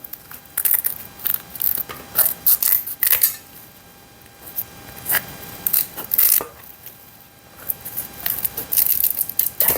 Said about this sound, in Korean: 가위로 잘라내기가 훨씬 더 수월하거든요